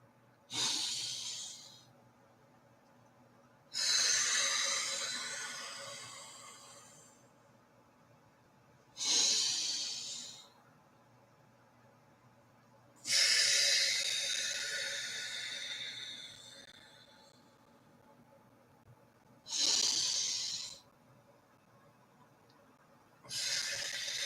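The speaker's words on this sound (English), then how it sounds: "So let's do some deep breathing." Deep breathing during a live spiritual gathering: long airy inhales and exhales, close and fairly loud, each lasting a few seconds with pauses of silence between them, about five or six full breaths in a row.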